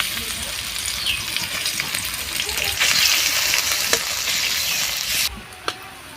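Chopped onion hits hot oil in a wok and sizzles loudly with a dense, steady crackle, scraped now and then by a spatula before the frying noise drops off abruptly near the end.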